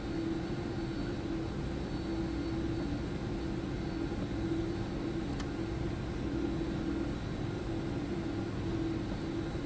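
In the FSX flight simulator, a Boeing 767-332ER taxis to the gate with a steady, low, droning engine hum and a faint high whine, constant and unbroken throughout.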